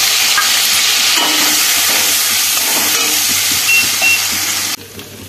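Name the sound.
stir-frying spice paste with potatoes in a pan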